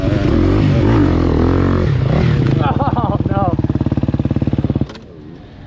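Gas Gas EX250F dirt bike on a harescramble course, engine loud and close, revving and pulsing unevenly before fading off near the end, with a voice talking over it at the start.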